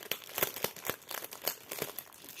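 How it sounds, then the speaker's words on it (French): Parcel paper crinkles and crunches as a package for a cross-stitch craft kit is opened, making dense, close rustling bursts with irregular rhythm. "Donc je vais ouvrir le colis, enfin le paquet"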